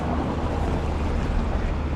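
Venta Rapid in Kuldiga, Europe's widest waterfall at about 230 metres across and only about a metre high, gives off a steady broadband rush of falling water, constant and fairly loud.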